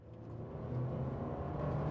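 A 2023 Toyota Sienna XLE Woodland Edition hybrid minivan's gas engine runs while the van accelerates, a steady low rumble and whir building slightly in loudness with no talk.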